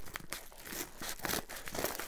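Scissors cutting into a Book Depository parcel: close crinkling and tearing of packaging in short bursts, with faint snips and rustles.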